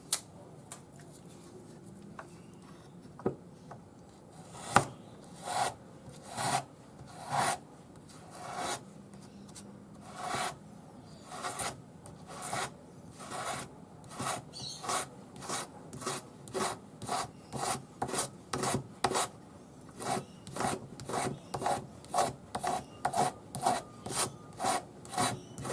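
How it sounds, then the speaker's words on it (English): A silver crossover ring is sanded with a 400 grit sanding stick to clean up solder joins. It gives a quiet rasping rub that starts sparse and settles into a steady, rhythmic back-and-forth stroking, close up with no talk. "all I'm going to do is use my sanding stick with 400 grade paper on it."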